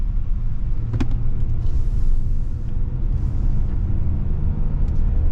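A 2024 Hyundai Palisade Calligraphy pulls away and rolls down the road, giving a steady low rumble of tires and engine with a faint whine from inside the cabin.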